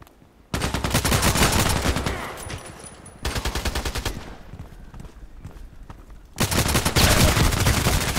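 Gunfire in the online shooter Contract Wars, on the Terminal 2 map: dense bursts of rapid shots in loud stretches, broken by a quieter gap, with no talk over them.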